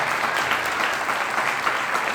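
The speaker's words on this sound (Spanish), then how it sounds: "Dale un aplauso al Rey de Reyes" A church congregation claps in sustained, dense applause, loud and steady throughout with no break.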